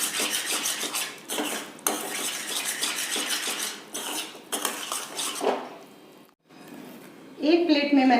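Spoon scraping and clinking against a pan as a sweet mixture for homemade ice cream is stirred continuously over a low flame, repeated rhythmic metal scrapes with short pauses, a brief gap, then a louder clatter at the end.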